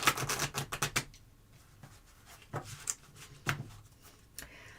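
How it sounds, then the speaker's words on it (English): Tarot oracle cards are shuffled on a table, giving a series of close, crisp riffling and tapping bursts, dense at first and then sparser, with faint background noise. "So if I shake the table a little bit because I'm shuffling here"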